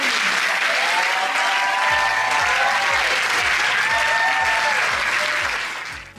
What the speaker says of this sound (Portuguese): Então vamos receber com uma calorosa salva de palmas, com muita alegria e acolhimento, Adriana.